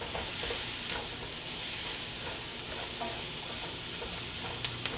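Onions are dropped into butter in a hot pan, producing a soft, steady sizzle with faint stirring clicks, quiet and close, with no talking.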